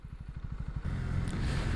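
A Honda CB125R motorcycle, a 125 cc bike, putters with quick regular engine pulses, then the rider opens the throttle and it swells into a louder, continuous drone with wind noise, close to the rider.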